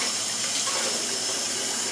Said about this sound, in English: if you rinse your hands in cold water